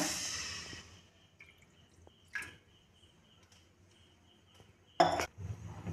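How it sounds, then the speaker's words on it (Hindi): Water poured into a hot pan while making chuda kakara pitha gives a brief hiss that quickly fades to quiet, followed later by a sharp clink of a utensil against the cookware. "पैन टा गरम हो गलानी। एतर किछि पानी दे दबा।"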